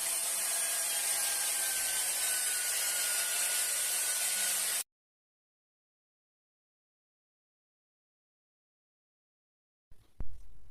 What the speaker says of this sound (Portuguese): você vem lixando com lixa assim com a mão